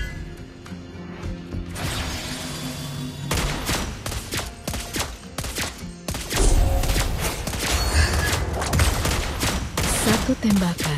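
Gunfire from the hero Lesley in Mobile Legends, rapid bursts of shots and crashing impacts layered over game music and effects, with a voice-line speaking partway through.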